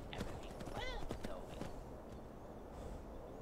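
Quick horse hoof clip-clops in Skyrim patter in an even rhythm, with a short whinny-like cry early on, fairly quiet overall.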